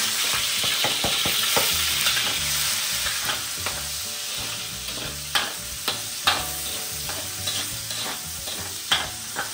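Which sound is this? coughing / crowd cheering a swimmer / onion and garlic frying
onion and garlic frying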